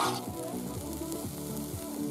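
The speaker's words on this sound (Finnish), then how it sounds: "Nyt on ne wok-vihannekset siinä käristymässä." Wok vegetables sizzle in a hot wok over fairly moderate heat, a dense continuous frying crackle with stirring movement throughout, close and steady without speech.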